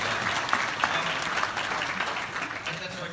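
Audience applause at a Microsoft Build Tour 2017 tech demo session, a steady wash of clapping running for several seconds with a presenter's voice talking over it.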